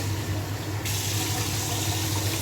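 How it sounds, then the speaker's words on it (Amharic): Water is poured into a homemade sugar mixture, a steady close splash and trickle running through the whole moment with no speech over it. "አሁን እዚህ ላይ ውሃ ጨምርበታለሁ ማለት ነው።"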